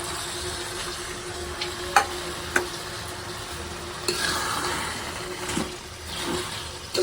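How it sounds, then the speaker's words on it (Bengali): Rice and meat frying together in a pan for bhuna khichuri sizzle steadily, with scraping stirring strokes and a few clinks of the utensil on the pan, up close. "একদম ভাজা ভাজা চাউল বিরিয়ানির মতো করে তৈরি নেবো"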